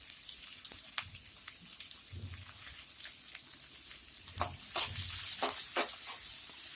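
Chopped large onions sauté in a pan with a close, continuous sizzle broken by crisp crackles and stirring knocks, growing busier and louder toward the end, without speech.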